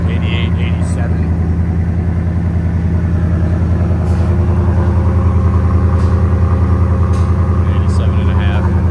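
A 2021-2026 Ford F-150 with a 5.0L V8 idles through an aftermarket muffler, a steady, deep, loud rumble held throughout with faint background noise.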